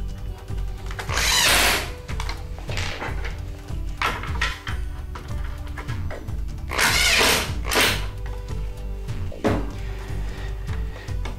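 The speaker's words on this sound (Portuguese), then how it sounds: "eu vou fixar esse suporte com 2 parafusos" A power drill drives two screws to fix a miter-cutting support onto plywood clamped to a table, giving loud, close whirring bursts, some short and some sustained, with brief pauses between.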